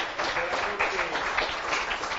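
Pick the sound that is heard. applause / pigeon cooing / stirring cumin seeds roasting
applause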